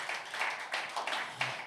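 A church congregation claps for God in a short burst of dense, steady applause from many hands, fairly close and lively, with no voices on top.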